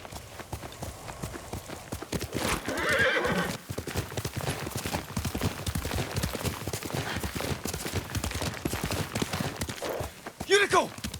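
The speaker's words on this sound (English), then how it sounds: "Yuriko's horse. She can't be far." In the video game Ghost of Tsushima, a horse's hooves clip-clop steadily while the horse neighs loudly twice, early on and again near the end, as characters speak over the scene.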